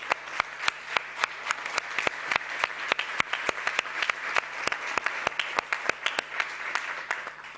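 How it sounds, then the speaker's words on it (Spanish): Sustained applause from an audience at a social housing conference in Seville, a steady wash of many hands clapping in a room with regular sharp claps standing out, fading toward the end. "Yo pido un aplauso para ti y para todos"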